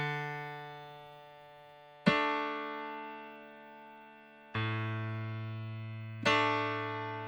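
Piano chords in D played by a beginner with uneven timing: four separate strikes at irregular gaps, each ringing out and fading before the next, clear and close with no voices.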